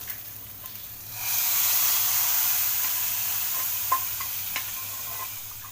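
Hot oil tempered with mustard seeds is poured into a curry of ridge gourd and jackfruit seeds, bursting into a loud, steady sizzle that swells after a quiet start and holds, with a few faint pops, without talk.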